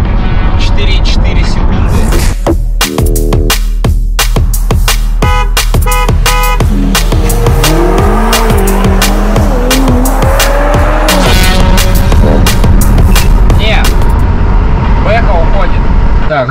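Zeekr 001 electric car launching hard from a standstill, a loud sustained rush of road and tire noise with rising whine and sharp transient thumps, speech mixed in over the run.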